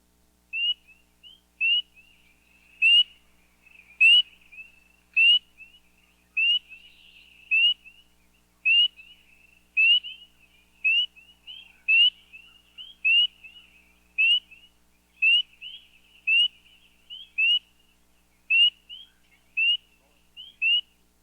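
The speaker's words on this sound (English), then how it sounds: "The call of the tiny spring peeper, Hyla crucifer, is a sure sign of spring in northeastern North America" Spring peeper frog (Hyla crucifer) calling in northeastern North America at night, a lone clear, high, rising peep repeated roughly once a second, loud and close over near silence.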